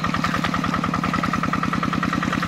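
A hand tractor works a rice paddy, its small single-cylinder engine chugging in a fast, steady rhythmic thump that stays loud and close throughout.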